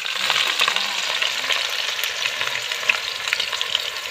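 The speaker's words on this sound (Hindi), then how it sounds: "हमने ऑयल गरम कर लिया। अब हम इसमें प्याज डालेंगे।" Onions fry in hot oil for chicken aloo, giving a steady, close hissing sizzle with no voices.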